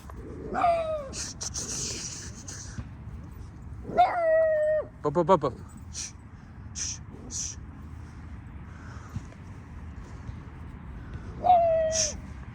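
A dog seen at a distance gives a few short barks, yips and whimpering whines in separate bursts with quiet gaps between, fairly faint against an outdoor background.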